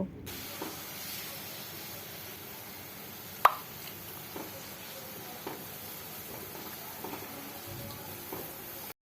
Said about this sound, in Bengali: ঝোল ভালো করে ফুটতে শুরু করেছে